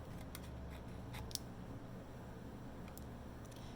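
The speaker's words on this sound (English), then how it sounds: "Take my scissors here. I'm actually going to trim off the vellum that's showing." Scissors snip vellum paper in a quiet room, a few soft, sharp cuts spaced irregularly over a faint background hum.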